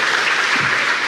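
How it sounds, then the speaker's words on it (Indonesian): An audience claps loudly and densely throughout, a brief burst of dense applause with no pause. "Tepuk tangan sekali lagi dong"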